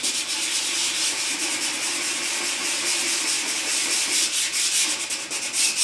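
Steady, close scraping rasp of sanding Stix primer on a planter, a continuous gritty rubbing that rises and falls slightly with each stroke and plays alone with no talking.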